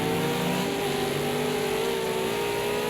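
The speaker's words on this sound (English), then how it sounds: "Oh, it's so loud, these cars." V8 Supercar race cars scream past in a constant, loud engine drone at an endurance race at Silverstone, with steady high revs and layered engine tones throughout.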